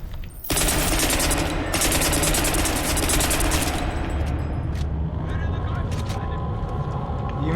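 Sustained machine-gun fire in the Crysis Remastered shooter, loud, dense and unbroken for several seconds, with a rumble of combat underneath and a faint flyby toward the end.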